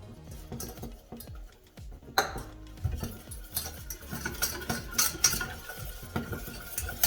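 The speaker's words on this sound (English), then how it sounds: "Just add flour and then you have to start mixing it." A utensil stirs flour into melted butter in a pan for a béchamel, making busy scraping and tapping strokes against the metal, close and irregular, with faint sizzling underneath and a sharper clink or two, no talk.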